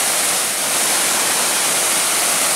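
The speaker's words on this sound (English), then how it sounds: "I'm assuming that might be the waterfall." Devil's Kettle Falls on the Superior Hiking Trail roars as a loud, continuous broadband wash of falling water, close and unbroken, with no voices.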